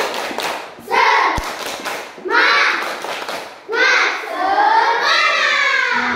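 Schoolchildren in a classroom chant a spirit cheer in unison, their voices rising in short bursts punctuated by sharp hand claps and a thump, fairly close and loud throughout.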